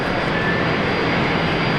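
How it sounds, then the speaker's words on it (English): Rolls-Royce Tay jet engines of a Fokker 70 at Brisbane International Airport winding up, a brief, loud, steady whine and rumble heard alone. "So no mistaking these engines, Stu. No, I did hear the signature wind up."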